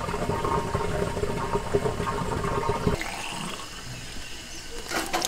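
Water overflows from a full gravity-fed tank in an overlanding truck's water system, a steady loud rushing and splashing for about three seconds that then drops to a quieter, thinner trickle.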